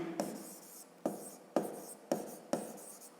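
Handwritten math working is set down with a pen, producing five evenly spaced scratchy strokes, each a short tap followed by a brief scrape, close and fairly quiet.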